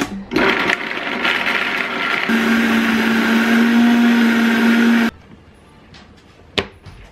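Close and loud, a blender whirs through almonds and water to make almond milk, its pitch dropping and steadying as it runs for about five seconds before shutting off, followed by a quiet thump.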